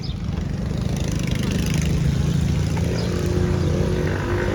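Motor scooters pass by a park, giving a continuous loud engine buzz and rumble with faint whining tones rising and falling as they move near the microphone.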